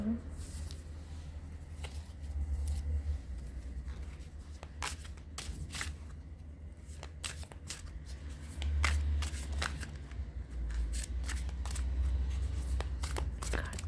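Tarot cards are shuffled and drawn at close range in soft, irregular riffles and crisp slaps and flicks beneath a quiet speaking voice.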